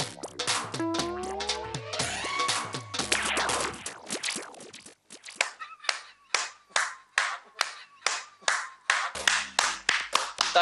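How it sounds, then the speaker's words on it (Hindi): A single person claps hands in a steady, evenly spaced rhythm of loud, close claps, following a stretch of people talking indoors in a TV drama scene. "ताली क्यों बजा रहा है तू?"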